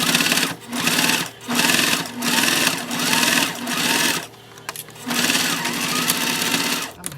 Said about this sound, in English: we're gonna go ahead and top stitch right here at about 1/8 of an inch